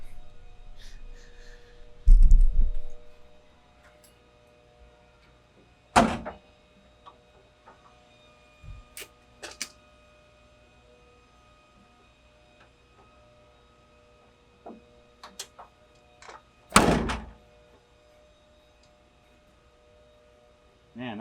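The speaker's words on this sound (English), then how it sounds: "let's just see if we can get this door to shut." A barn door being fitted to a Toyota LandCruiser is swung shut, giving a few sharp thuds and clunks spaced through mostly quiet stretches, close by, with some handling noise between the hits.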